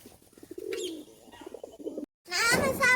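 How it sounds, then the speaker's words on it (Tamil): A pigeon gives soft low coos close by, alternating with a few brief higher chirps and a short gap before a louder, busier burst of bird calls. "இப்ப இந்த புறாவை பாருங்க."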